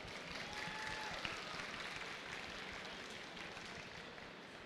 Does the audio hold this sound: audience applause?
yes